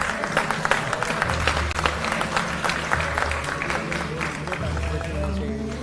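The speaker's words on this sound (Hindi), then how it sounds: "जोरदार तालियों के साथ आंचल का अभिनंदन करते हैं" A large audience at a Delhi government awards ceremony applauds steadily, dense clapping sustained throughout at a loud, even level, with a low murmur of crowd noise beneath.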